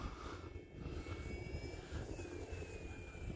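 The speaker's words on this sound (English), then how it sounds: "But this airplane's flying fine." An RC airplane on skis, running a 3S battery at about half throttle, flies overhead with a steady, moderately faint electric whine that rises and falls slightly over wind noise.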